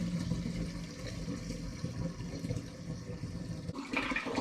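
Homebrewed all-grain Bohemian strong ale pours steadily into a vessel with a continuous gushing, splashing rush of liquid, closely heard with no talk, shifting in tone near the end as the flow changes.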